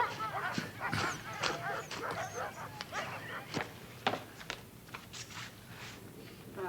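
Dogs bark repeatedly in a TV episode scene, sharp yips and barks in rapid bursts, fairly close and loud, with some whimpering mixed in and no clear talk.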